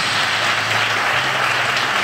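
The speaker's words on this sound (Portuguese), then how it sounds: "Aplaude o Rei" Steady, dense clapping from a church congregation during a healing service, filling the whole clip as a continuous wash of applause.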